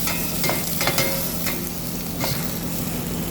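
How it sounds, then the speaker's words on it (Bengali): Prawns and onion sauté in a pan with a continuous close sizzle and a few scraping stirs early on, steady and moderately loud, with no talking. "চিংড়িটাকে একটু সতে করে নেব।"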